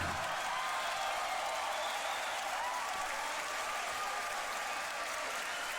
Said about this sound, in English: you can keep cheering for Rofu right now, though